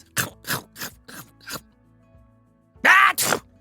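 A cartoon character lets out a run of five quick, short sneezes in a steady rhythm, then after a brief pause two louder, fuller sneezes close together, all close and clear with no talking.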